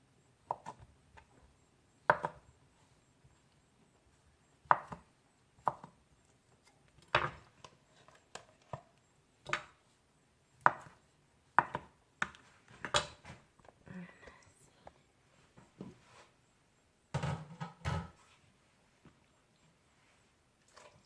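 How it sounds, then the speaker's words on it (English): Cooked pork blood cut up for bun bo hue, heard as sparse, irregular knife chops, sometimes in quick pairs, with quiet gaps in between. "So this is already cooked pork blood. I'm just gonna cut it up and throw it in the broth."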